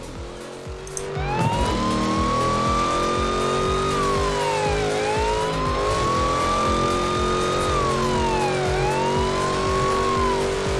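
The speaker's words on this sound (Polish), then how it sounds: "Crown Victoria, proszę bardzo. Fajnie brzmi to auto, no i mamy klaksony, mamy koguty" Ford Crown Victoria police car in Forza Horizon 4 runs with a steady loud engine drone while a wailing siren sweeps up and down through repeated cycles, starting after a brief quiet moment and continuing to the end.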